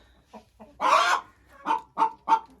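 A laying hen and other chickens cluck up close in a coop: one long loud squawk, then three short evenly spaced clucks against a quiet background.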